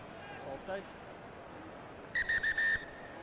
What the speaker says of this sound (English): And that will be the halftime whistle here.